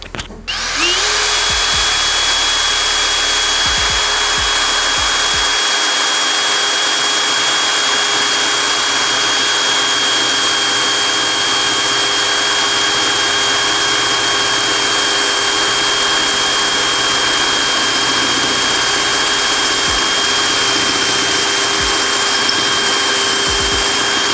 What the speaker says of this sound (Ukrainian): пробуємо максимальний діаметр, який він може свердлити. Тут у нас сталь 5 мм, 13 сверло.